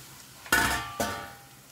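A spoon clanks twice against a metal cooking pot while stirring green paste and turmeric, two quick metallic scrapes that ring briefly and fade.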